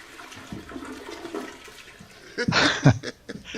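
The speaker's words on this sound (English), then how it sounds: "That sounds like a real toilet flushing." A toilet in need of repair flushes nearby with a rushing gurgle of water that swells loudly near the end.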